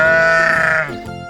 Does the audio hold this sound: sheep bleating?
yes